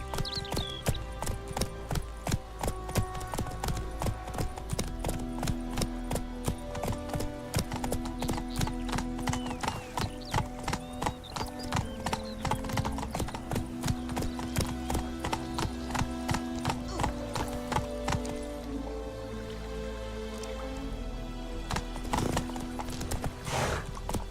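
Hooves of a horse clip-clopping steadily in The Witcher 3, with occasional whinnies and game music running underneath throughout.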